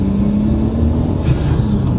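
Nissan R33 Skyline with an Apexi FC unit pulling hard under acceleration, a steady loud engine drone heard from inside the car with a sustained tonal whine, no talking.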